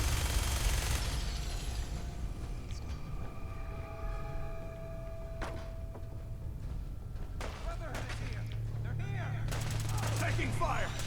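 Gunfire in the Fallout 4 video game, survival mode: bursts of shots crackle loudly at the start and again in clusters later, over a steady low game rumble with tonal background sound and possible voices.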